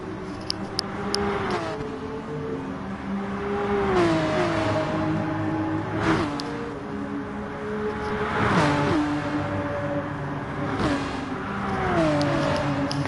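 Porsche Cup race cars in a racing video game at Spa-Francorchamps, engines droning steadily with repeated upshifts and revs as cars battle closely side by side, loud and continuous throughout.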